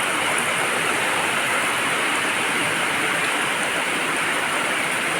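Steady, dense rain hisses evenly throughout, a continuous broadband wash with no pauses or voices.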